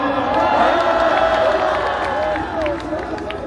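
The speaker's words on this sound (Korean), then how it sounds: "큰 박수로 맞이해주세요." A large crowd at an outdoor rally against a presidential impeachment in Gwanghwamun claps and cheers to welcome a speaker, a loud continuous roar of applause mixed with shouts and whoops, with some voices throughout.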